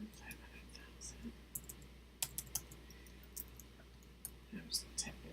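Quick bursts of computer keyboard typing, light clicky keystrokes in irregular clusters over a low steady hum, with faint murmuring in the background.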